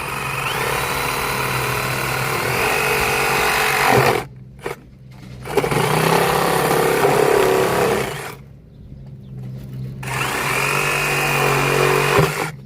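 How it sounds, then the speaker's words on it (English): Power tool cutting through PVC pipe for a buried downspout line, a loud sustained whirring grind in three long bursts separated by short pauses, close to the mic with no talking. "we're gonna cut this PVC pipe for you."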